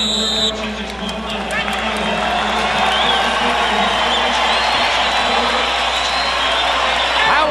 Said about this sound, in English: Crowd rises to applaud what they've seen so far.